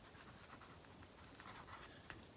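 A pen scratching across paper in a gratitude journal, a soft continuous scribble close by with faint strokes, no talking.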